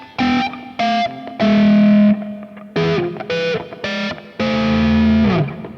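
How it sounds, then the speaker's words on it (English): A high distorted electric guitar harmony plays over a lower guitar melody in a riff, a series of loud punchy notes in short bursts with gaps, ending on a long bending note. "if I was to play that along with the low melody, it sounds something like this."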